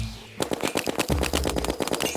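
Rapid bursts of snowball cannon fire in Terraria master mode in a snowy area, a fast mechanical rattling stream of shots that starts after a brief quiet moment and continues loud and steady.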